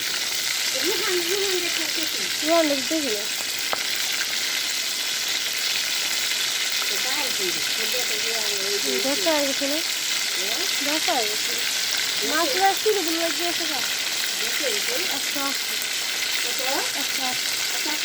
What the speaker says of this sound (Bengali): মাছটা হলো ভাজা নিতেছি